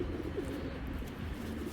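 Giribaj pigeons cooing in a loft, soft low repeated coos over a steady murmur of birds, close and fairly quiet with no talk.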